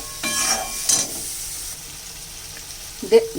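Water added to a pan of spices for a sidol fish chutney, giving a soft, steady sizzle and bubbling with a few louder stirring clatters near the start and at the end.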